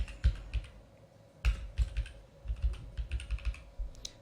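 Computer keyboard typing a brand name while building a page in a website builder, with quick clusters of close, soft key clicks, short pauses between them and no voice.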